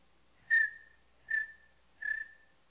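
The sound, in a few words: person whistling imitating a bird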